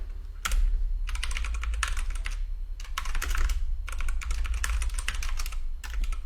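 Fast typing on a computer keyboard during a coding lecture, bursts of crisp key clicks in quick runs separated by short pauses, close and clear over a low steady background hum.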